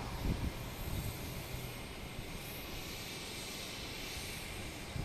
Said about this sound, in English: next we have an American taking off. Heading to Charlotte. A321.